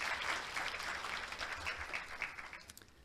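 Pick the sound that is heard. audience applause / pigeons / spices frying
audience applause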